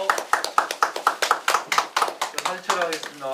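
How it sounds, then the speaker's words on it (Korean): Rhythmic hand clapping at a Korean award ceremony in Yeoju, a small group applauding in a steady beat close by, with a voice speaking over the end. "박수 쳐주십시오"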